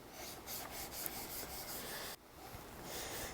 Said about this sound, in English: Let's flip this over and we'll run this across the 800 grit side as well.